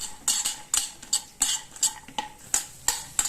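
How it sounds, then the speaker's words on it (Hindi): Cashews, almonds and pistachios being dry roasted in a pan, a utensil stirring and clinking against the metal in quick, regular close strokes with no talk. "यहाँ हम इन तीनों चीजों को हल्का हल्का सा भून लेंगे।"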